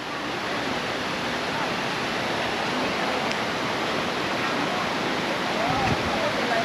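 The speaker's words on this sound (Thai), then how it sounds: "น้ำตกอยู่เบื้องนะคุณ" A waterfall on Koh Kood island pours in a dense, steady rush of water that fills the whole scene evenly and loudly, with no pauses.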